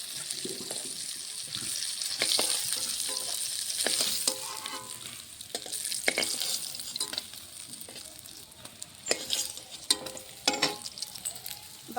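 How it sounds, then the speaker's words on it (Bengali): Rohu fish pieces frying in a pan, with steady sizzling and scattered sharp crackles and pops, clear and fairly close, with no talk. "বাকি মাছগুলো এইভাবে ভেজে নেব"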